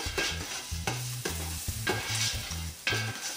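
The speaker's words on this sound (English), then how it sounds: "I'm just gonna put that in there and give it a stir just long enough for me to smell it." Spices frying in a pot on medium-high heat for curry goat are stirred with a utensil, giving rhythmic scraping strokes over a steady sizzle, close and moderately loud.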